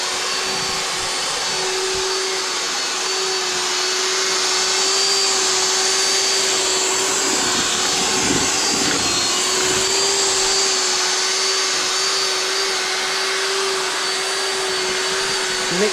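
A mixer blending building material on a house renovation site in Salento, Puglia, running with a steady, loud electric whine and constant drone throughout.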